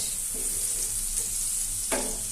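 Chicken chili with soy sauce sizzling in a pan, a steady hiss of frying broken by a couple of quick spatula scrapes near the end.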